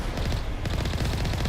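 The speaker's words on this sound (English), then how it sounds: "oh, we're getting shot at" Rapid fusillade of enemy gunfire aimed at the player in Mass Effect, a dense, fast rattle of shots running steadily through the short moment.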